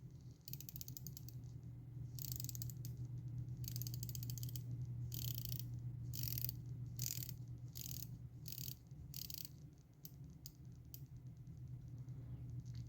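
Ratcheting bezel on a Rolex Yacht-Master homage watch build, stock gasket lubricated: a series of quick, crisp clicks in short bursts, close and quiet over a faint low hum.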